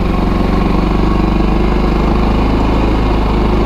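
A Kazuma Jaguar 500 4x4 ATV engine running steadily in gear, a loud, close, continuous low mechanical drone with no speech over it.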